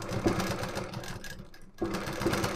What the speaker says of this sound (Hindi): इस तरह से कपड़े को खींचकर सिलाई लगाइएगा